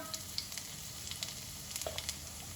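Cumin seeds tossed into hot oil with a dried red chili for pumpkin halwa sizzle and crackle close up, a steady frying hiss dotted with small sharp pops.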